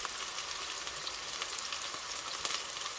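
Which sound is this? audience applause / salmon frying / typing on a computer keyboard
salmon frying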